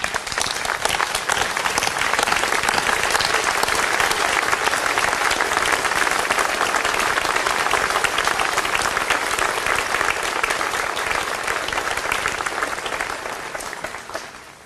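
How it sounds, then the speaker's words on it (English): Standing ovation at a high school commencement, sustained dense clapping from a large crowd, loud and steady for the whole stretch before tapering slightly at the end. "Can we just give a standing ovation to our wonderful faculty and administrators?"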